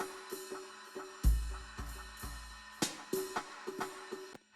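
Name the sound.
echo effect from a plug-in pedal preset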